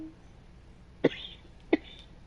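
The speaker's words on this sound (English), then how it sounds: "So if you hear me coughing, I apologize." Two short, sharp asthmatic coughs about a second apart, close to the microphone, against a quiet background.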